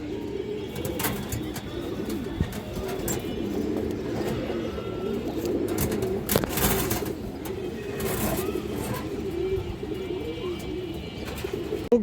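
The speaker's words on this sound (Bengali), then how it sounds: "খুবই হারামি একটা সবুজ গলা নর কবুতর" A green-necked male pigeon at a breeding farm keeps up a steady, low cooing amid a busy loft hum, with occasional sharp clicks and a faint passing car in the background.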